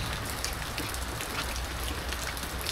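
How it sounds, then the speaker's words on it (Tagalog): Heavy rain pours steadily during a storm, a dense, continuous hiss of drops drumming on surfaces at close range, loud and unbroken throughout with no voices. "ang lakas ng ulan"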